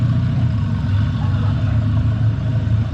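A rebuilt race car engine idles steadily, a continuous low rumbling drone with an even, unchanging pulse and no speech over it.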